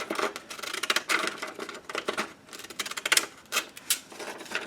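Scissors snip out a piece of paper from a scripture card, with close, crisp bursts of cutting in uneven clusters and short gaps between.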